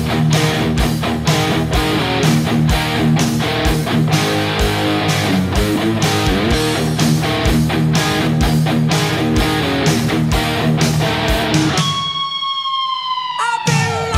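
Distorted electric guitar playing eight bars of a riff, rapid driving palm-muted chugs and accented notes in a steady rhythm, ending with a whammy-bar dip that dives and rises, loud and alone.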